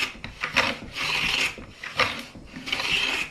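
A hand plane shaves high spots off a guitar fretboard binding on a shooting board, giving repeated rasping wooden strokes in a back-and-forth rhythm, close and fairly loud with no talking.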